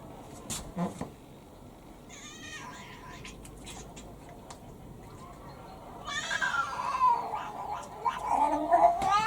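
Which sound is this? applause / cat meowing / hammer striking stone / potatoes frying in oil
cat meowing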